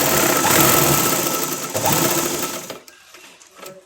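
A sewing machine runs a fast, steady whirring stitch, double stitching over lace on a dress. It is close and busy for nearly three seconds, then stops, leaving a few soft clicks and handling sounds.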